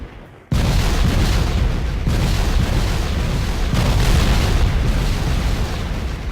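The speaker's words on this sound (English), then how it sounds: "you can get a basic grenade and then blow up trees with it" A grenade detonates in the video game Factorio, blowing up trees with a loud, sustained blast that cuts in after a brief quiet moment and keeps roaring as a dense wall of rumbling explosions for about six seconds.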